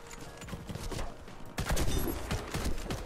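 Sniper rifle fire in a shooter video game on a trailer-park map, a handful of sharp, punchy shots with quick echoing tails heard over quiet game ambience, no talking.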